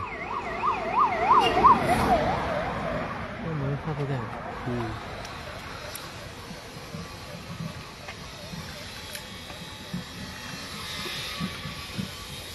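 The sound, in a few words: ambulance siren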